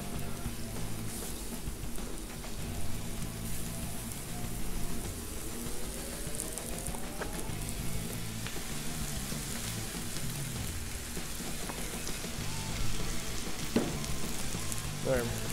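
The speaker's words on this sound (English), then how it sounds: "Ooh, listen to the sizzle." Marinated chicken sizzling in oil on a Blackstone griddle, a steady dense crackle and hiss that runs unbroken for about fifteen seconds, close and even, with a low hum beneath.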